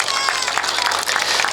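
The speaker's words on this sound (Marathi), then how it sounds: "त्या पोरींसाठी एकदा जोरदार टाळ्या होत्या" Loud, dense applause from an audience for a winning girls' kabaddi team, brisk clapping filling a short burst with murmured crowd noise mixed in.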